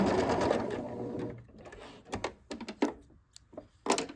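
A domestic sewing machine runs a quarter-inch seam through quilt block fabric, a fast whirring stitch run that stops, followed by scattered clicks, taps and handling of cloth nearby.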